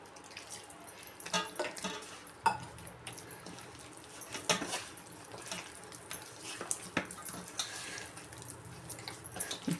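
Water is added to obbattu dough in a bowl and worked by hand. Faint, quiet splashes, drips and wet squelching taps come in irregular bursts with no talk.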